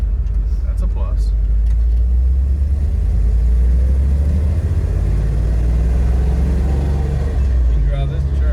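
A lifted Dodge Ramcharger on the road makes a continuous low engine rumble and drivetrain hum inside the cab, with people talking over it.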